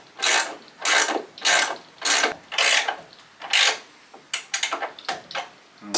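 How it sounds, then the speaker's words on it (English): A ratchet spanner with a 19mm socket tightens a locking nut on a wooden double/triple hive stand, giving repeated close rasping clicks in bursts, about eight strokes, then shorter quicker ones. "ratchet spanners."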